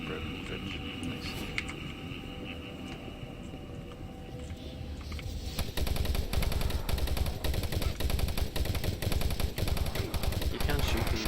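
Rapid gunfire from the 2004 id Software shooter Doom 3 starts halfway through and keeps up a dense, loud, continuous rattle of shots and blasts, following quieter game ambience with a faint hum.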